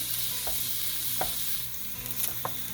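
Onions sauté in olive oil in a pan with a steady broad sizzle, broken by a few soft stirring scrapes from a utensil; close and continuous, with no talking.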